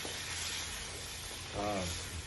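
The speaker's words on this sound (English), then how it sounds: "we'll keep stirring the yogurt" Yogurt stirred in a hot cooking pan gives a quiet, constant sizzle with soft scraping underneath, and a voice speaks briefly near the end.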